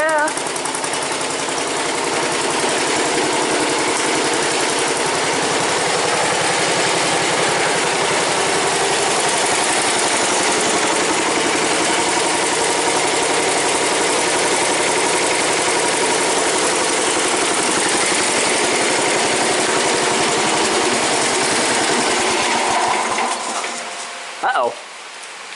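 A tractor engine idling after a cold start, a steady loud rattling clatter that runs without a break, then cuts off abruptly near the end.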